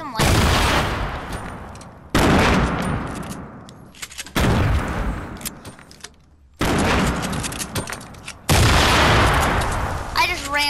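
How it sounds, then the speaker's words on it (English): Explosions and gunfire in a first-person shooter game, five abrupt loud blasts each decaying into rumble, spaced about two seconds apart. "I just ran like straight into that grenade"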